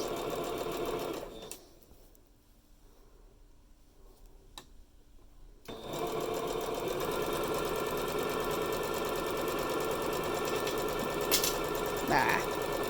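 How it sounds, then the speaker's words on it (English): Sewing machine running steadily as it stitches a quarter-inch seam down a fabric mask tie using a quarter-inch presser foot, a continuous close mechanical whir with rapid ticking, pausing briefly then resuming for a long run. "keep going with that 1/4 inch foot, making a 1/4 inch seam all the way down this tie till you get to the end"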